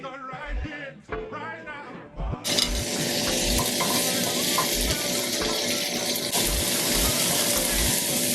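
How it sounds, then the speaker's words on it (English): Butter, peppers and onion hit a hot skillet with a sudden loud, steady sizzle and frying hiss, preceded by a few soft clinks and stirring sounds. "in the skillet, I'm going to start with butter, peppers, and onion to get that going"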